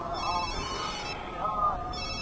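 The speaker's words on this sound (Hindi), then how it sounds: "आपका फोन बज रहा है।" A telephone rings with a steady electronic trill, repeating in short bursts over a noisy room background with voices murmuring.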